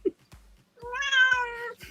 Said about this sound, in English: The cat's complaining because I picked her up.